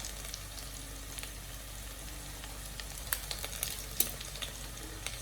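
Onions fry in a pan with a soft, steady sizzle, close and fairly quiet, punctuated by scattered crackles and pops of spitting oil, no talk.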